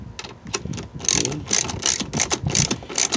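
A ratchet wrench turns the screws of a 2006-2010 Ford Explorer tail light, giving rapid clicking bursts in a quick repeating rhythm, close and clear, with no talking.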